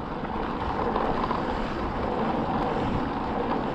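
A boat's outboard motor runs steadily at sea off the Niolon coast, a continuous broad engine drone mixed with wind buffeting the microphone, unbroken and fairly loud throughout.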